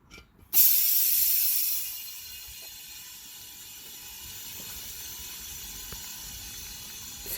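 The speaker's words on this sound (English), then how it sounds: "So the tire is inflating now." Semi truck tire being inflated with air: a loud hissing burst starts near the half-second mark, then eases into a steady, quieter rush of airflow that continues to the end.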